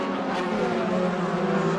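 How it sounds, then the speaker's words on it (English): A Mercedes AMG DTM touring race car at Zandvoort in 2011 gives a steady, loud engine roar that holds evenly throughout the short stretch, with no voices. "there is the AMG car of Jamie Green"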